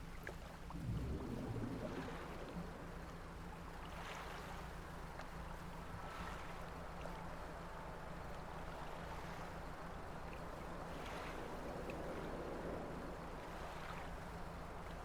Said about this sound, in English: the wind is like totally distracting me.